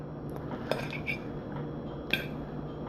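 Cutlery scraping and clinking on a plate while serving sausage and cabbage, with a few sharp metallic taps standing out over a steady quiet room hum.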